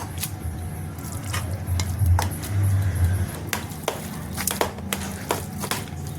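Golgappa filling with boiled peas is mixed and mashed by hand, making close, soft, wet squishing and stirring sounds that keep going steadily with a few light clicks.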